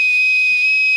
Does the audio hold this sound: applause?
no